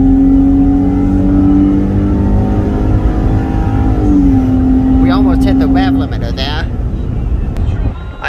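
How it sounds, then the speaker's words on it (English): A 2016 Ram 1500 pickup truck accelerates with a loud, close engine drone heard from inside the cab; the pitch steps up partway through, and people talk over the engine. "it feels like this truck really enjoys accelerating"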